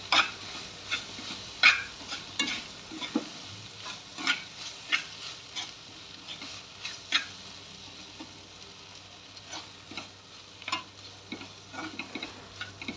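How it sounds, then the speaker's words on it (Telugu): A spoon stirs ridge gourd curry with sesame powder in a pan, making repeated scraping strokes in an uneven rhythm over a soft sizzle, close up with no voices. "తరువాత తెలకపిండి పోసుకుంటూ బాగా కలుపుకోవాలి"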